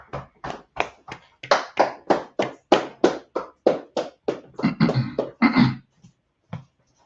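A room of people claps together in loud, separate bursts that come in a fairly steady rhythm, then speed up into denser mixed clapping before stopping, with one last lone clap.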